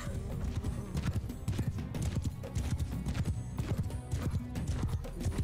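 Horse hooves clip-clop in a fast, continuous gallop in the video game Mount & Blade II Bannerlord, with the clatter of a battle in the background.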